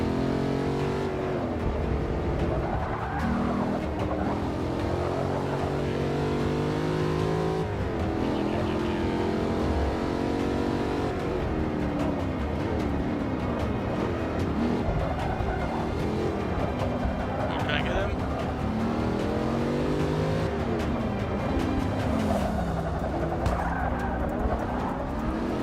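An Audi R8 race car in Forza 6 Apex roars continuously, its engine note rising and falling through gear changes with tire squeal layered over the steady, loud game audio.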